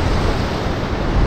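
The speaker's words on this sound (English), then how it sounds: "Here's more big waves coming now" Big ocean waves break on a rocky shore in a loud, continuous roar of surf, with wind buffeting the microphone throughout.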